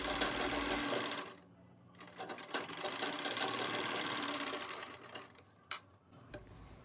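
A sewing machine stitching saree fabric being made into a lehenga: steady whirring close up with the needle's rapid chatter, a brief pause near the start, then another run that stops and restarts.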